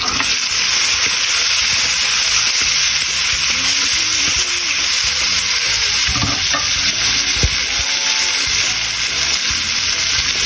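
Onions and tomatoes sizzle and fry steadily in a hot pan, a loud continuous hiss with a few stirring scrapes and clanks, no talking.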